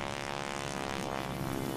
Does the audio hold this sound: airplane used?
yes